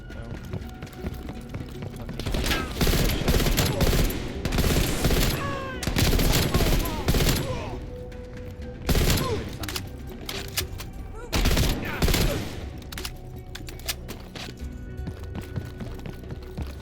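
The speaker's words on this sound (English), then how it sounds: "they're shooting at us!" Enemy gunfire in a video game, dense bursts of rapid shots and fusillades crackling loudly and repeatedly across the scene, with brief lulls between volleys and no talk.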